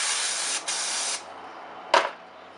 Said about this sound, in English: I'm just going to use a shop towel with some brake cleaner on it.